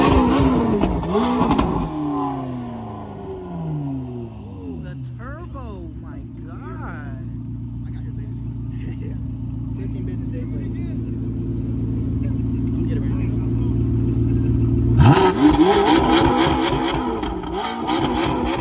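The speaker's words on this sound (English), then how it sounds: "Is he gonna rev it?" At a car meet in a park that turns into a takeover, an engine idles and builds in a long rising rev, then bursts into loud revving near the end, with people talking and shouting around it.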